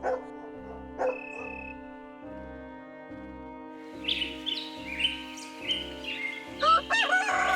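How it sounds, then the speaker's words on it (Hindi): A rooster crows at dawn in a village, one long call over a steady rhythmic backing, followed by busier chirping and calls from other birds, with no speech. "अगली सुबह मुर्गे की बांग के साथ सबकी आंख खुलती है"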